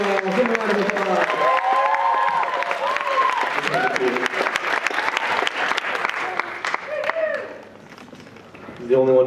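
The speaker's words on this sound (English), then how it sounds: "Shout out to give a round of applause." Sustained audience applause at a college comedy show, dense clapping with cheering and whoops over it, loud and steady before tapering off near the end.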